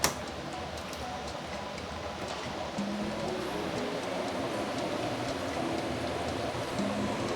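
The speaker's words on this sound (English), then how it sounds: "so it is now already boiling" Continuous bubbling and hissing of water at a rolling boil in a pot for mushroom and chicken stew, steady and close, with no voices.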